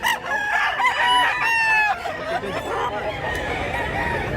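Roosters crow in drawn-out, repeated calls among clucking chickens at a poultry sale in Mantalungon, Cebu, with a faint voice mixed into the steady farmyard din.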